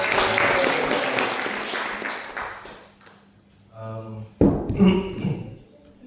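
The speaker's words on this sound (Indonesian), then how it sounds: "Kita kasih tepuk tangan untuk semua pengurus." At the closing session of a church retreat, the crowd claps loudly for about three seconds before the applause fades out, followed by a few quieter ringing tones and thuds.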